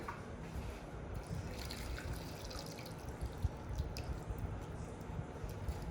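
About 1.5 cups of water poured over lentils and other ingredients in a cooking pot, a steady close trickle with dripping and splashing throughout.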